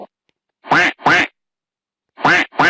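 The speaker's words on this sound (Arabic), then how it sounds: "duck" A duck quacks four times, loud and close, in two quick pairs separated by a short silence.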